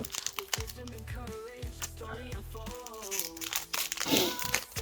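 Packaging of a Pokémon card box, a Dogrino ex collection, crinkles and crunches as it is pulled open in close, irregular bursts, with a person talking over the tearing and crumpling.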